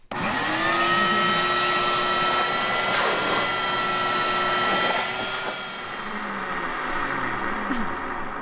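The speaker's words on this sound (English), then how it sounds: "Is this a wet dry vac?" A loud, steady wet/dry vacuum motor whines continuously close by, with a high pitched hum, then its pitch drops as it winds down near the end.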